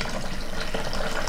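Water poured into a cold brew coffee maker, a steady broadband splashing rush that runs evenly and fairly loud for the whole moment with no talk.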